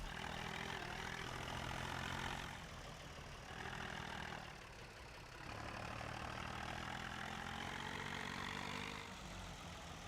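A small 45-horsepower tractor in Farming Simulator 17 drones steadily, its engine note swelling and easing in slow sweeps without any talking.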